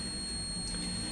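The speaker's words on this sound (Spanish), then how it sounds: "Vamos a conectar el buzzer para que sea un poquito más fácil de entenderlo. Ahí escuchamos un bip." A small electronic buzzer wired to a transistor in an automotive Hall-sensor test circuit emits a steady, thin, continuous high beep that holds at an even level throughout.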